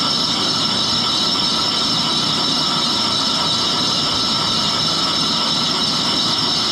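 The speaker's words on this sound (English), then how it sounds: "Looks like I'm cutting into the aluminum about 5 thousandths at the most" An Axelson lathe bores an aluminum Harley-Davidson cylinder for sleeving, taking a light cut of about five thousandths. A loud, continuous mechanical drone with steady tonal whine holds unchanged throughout.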